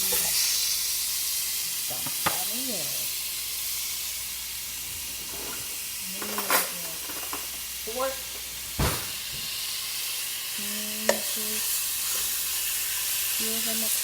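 Raw steak for pepper steak hits a hot pan and sizzles in a steady, close hiss, with brief clatters and a voice speaking intermittently over it.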